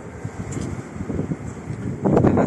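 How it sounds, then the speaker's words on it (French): Strong wind buffets the microphone outdoors in Marseille, a steady rumbling roar with gusts that swell louder near the end, no voices. "Beaucoup de vent."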